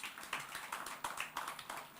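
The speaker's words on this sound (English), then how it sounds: "Please give yourself a round of applause." Audience at a women's workshop giving themselves a round of applause, heard as faint, scattered, fairly rhythmic claps that sound light and somewhat distant.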